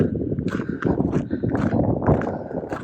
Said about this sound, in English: Also, I found ponies.